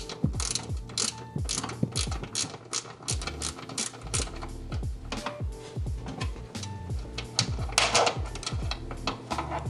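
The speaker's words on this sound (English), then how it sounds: "So grab your 12mm and take that guy off." Ratchet wrench loosening a 12mm bolt behind a car fender while a Greddy hood strut is fitted to a 2022 Toyota GR86. Rapid, close pawl clicks arrive in uneven bursts all the way through, with no talking.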